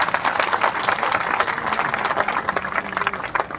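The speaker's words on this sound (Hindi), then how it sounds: "पूरी जनता के लिए जोरदार ताली से स्वागत है" Dense applause from a crowd, a continuous wash of many hands clapping at steady loudness for several seconds.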